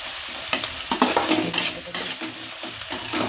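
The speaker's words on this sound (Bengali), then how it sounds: "আদা বাটা, রসুন বাটা দিয়ে দিলাম।" Ginger and garlic paste sizzles and fries in a pan for a Bengali chicken curry, a steady crackling hiss broken by several scraping stirs of a spatula, close and moderately loud.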